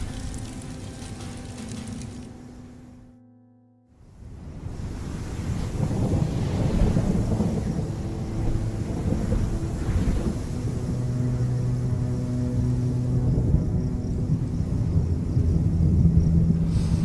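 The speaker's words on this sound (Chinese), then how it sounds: "看起来像是雷电" Thunder from a cartoon rolls in as a deep, sustained rumble after a brief silence, swelling and staying loud like a storm with wind-like roar underneath.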